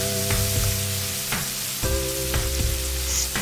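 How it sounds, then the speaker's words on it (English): Three medium sliced onions sizzling and frying in a pan, with loud continuous crackle and a few sharp scraping stirs of a utensil against the pan, no talking. "Stir fry them."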